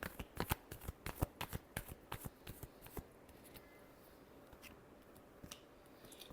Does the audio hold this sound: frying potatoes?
no